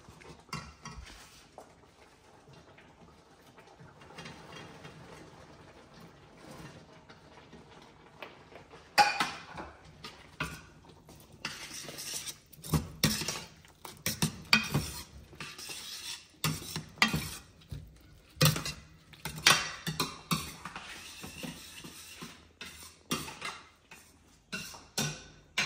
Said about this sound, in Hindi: अब इसमें मिक्स कर देता हूँ हमारी बॉल्स